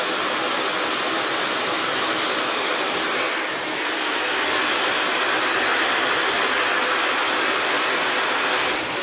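A negative ion hair dryer blows loud and steady at its highest heat setting, a continuous close airy roar that brightens slightly partway through, with no talk.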